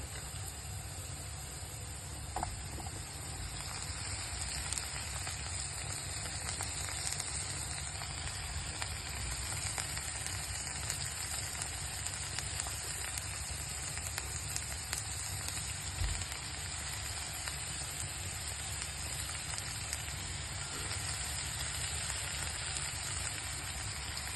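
Onion, potato cubes, carrot and tomato fry together in a pan for poha, giving a steady, even crackling sizzle that runs unbroken and fairly close throughout, with no talk over it.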